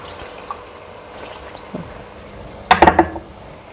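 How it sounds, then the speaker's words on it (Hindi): Water is poured into a pot of fish kofta curry, a brief splashing burst near the end after quiet kitchen background with a few light clinks. "अब इसमें पानी हम डालेंगे।"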